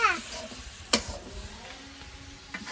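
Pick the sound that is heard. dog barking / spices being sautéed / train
spices being sautéed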